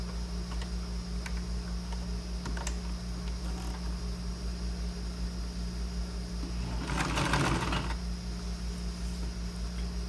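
A sewing machine stitches a 1 cm seam on a princess-cut blouse, a steady close mechanical hum with fine ticking throughout and a louder, rattling stretch near the end, with no speech.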